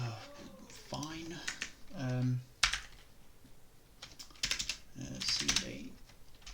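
Someone types on a computer keyboard while installing Python. Bursts of quick, close key clicks alternate with a person talking over them.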